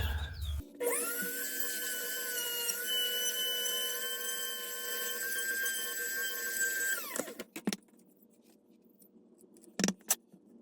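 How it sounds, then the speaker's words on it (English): A power drill whines steadily at high pitch for several seconds while boring a hole through a panel, then stops, followed by a couple of sharp clicks and knocks. "I have to drill out a hole here for the LED to shine up to light that panel up"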